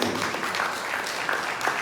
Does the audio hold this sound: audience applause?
yes